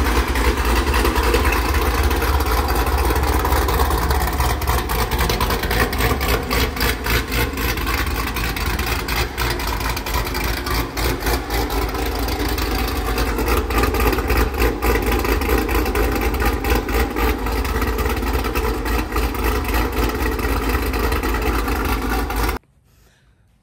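A warmed-up 2019 Chevrolet Camaro ZL1 built up with engine work idles with a deep, steady, close rumble that holds even and loud before cutting off abruptly at the end.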